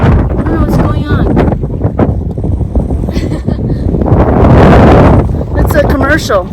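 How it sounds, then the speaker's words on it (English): Heavy gusts buffet the microphone outdoors at a volcanic national park in Hawaii, loud rumbling bursts swelling and easing throughout, with people talking over them. "It's so windy now."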